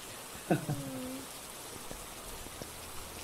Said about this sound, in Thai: ได้ยินเสียงฝนยังตกใจ